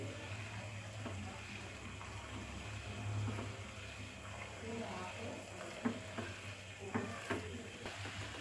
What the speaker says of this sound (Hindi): अच्छे से इसको हम 3 से 4 मिनट के लिए बॉईल करेंगे